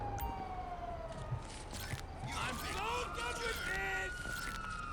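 Police sirens in GTA 5 wail and sweep up and down in pitch, layered with game noise and chatter, loud and continuous throughout.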